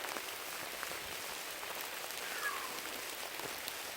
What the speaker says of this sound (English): It's a raining. It's definitely raining now. It's coming down.